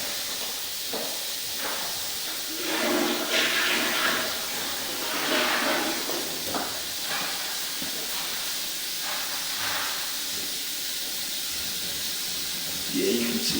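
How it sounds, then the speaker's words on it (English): A toilet flush rushes and hisses steadily with water churning and surging in waves, moderately loud and close, with brief talk. "Usually it's a lot bigger rush from the toilet when it's flushed."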